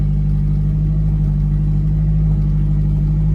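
A Hyundai engine idles just after starting, a loud, steady low rumble that holds even throughout with no voices over it.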